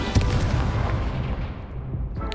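Incendio fire spell cast in Hogwarts Legacy, a loud booming burst of flame with a sharp attack near the start, then a rumbling, crackling tail that stays strong and fairly even for a couple of seconds.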